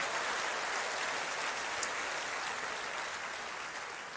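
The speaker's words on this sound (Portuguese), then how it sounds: "Aplausos a Deus por sua palavra." A church congregation applauds during a sermon, producing a faint, even wash of distant clapping that hisses steadily without a break.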